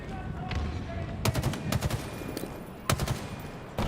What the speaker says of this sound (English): Shots continue to get fired across